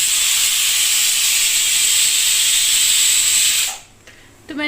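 A pressure cooker boiling arhar dal on a gas stove lets out one long, loud, steady steam whistle, which cuts off abruptly and leaves a quieter kitchen with light clatter.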